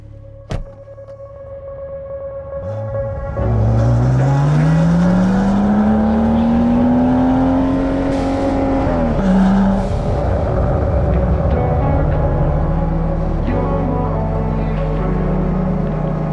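A Brabus-tuned Porsche 992 Turbo S rated at 820 hp and 950 Nm hums at idle inside the cabin, then its engine rises in a loud, climbing drone as the car pulls away, settling into a steady, heavy rumble while driving.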